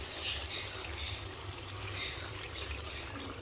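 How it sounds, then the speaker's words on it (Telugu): Water trickles steadily as it is poured into a pot of chicken curry seasoned with kasuri methi, a soft continuous liquid stream with faint kitchen background noise and no talking. "వాటర్ పోసుకోవాలి."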